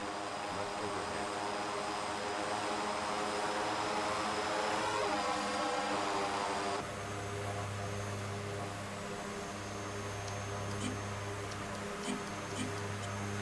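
A DHC-6 Twin Otter 300 Series turboprop in a flight simulator game, a steady droning propeller and engine hum that shifts to a deeper, fuller tone partway through, continuous and fairly faint.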